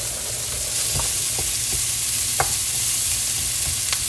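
Onions sizzle in a hot pan for a bucatini all'Amatriciana, with a steady frying hiss and a few sharp scrapes and clinks as they are stirred.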